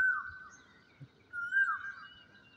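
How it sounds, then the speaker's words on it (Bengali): An Asian koel calls its kuhu kuhu over a rooftop garden in the early morning, two drawn-out clear whistled notes, moderately near and alone above soft background noise. "বাহ বাহ, কি সুন্দর করে ডাকছে, কুহু কুহু করে।"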